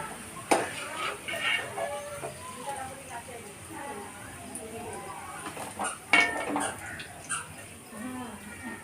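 Deep-fried onions (beresta) being lifted out of a pan while preparing prawn chicken dum biryani: a couple of sharp metal clinks and soft utensil scrapes under steady talking.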